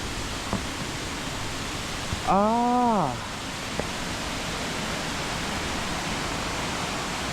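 A series of forest waterfalls gives a steady, soft wash of rushing water from a distance, continuous throughout, with a brief rising-and-falling whistle-like tone cutting across it partway.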